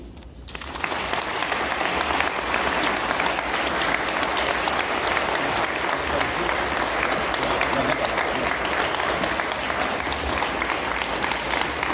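An awards audience at the Quebec Agricultural Hall of Fame ceremony breaks into applause, starting from near silence and quickly swelling into sustained, even clapping from a large crowd.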